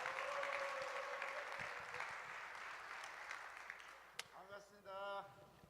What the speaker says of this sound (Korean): 우리 큰 박수로 모시도록 하겠습니다.